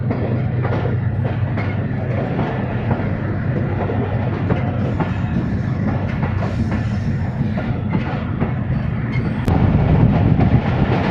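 A train hauled by a GU20 locomotive rolls steadily along the rails, a loud continuous rumble with faint clickety-clack from the wheels and no talking.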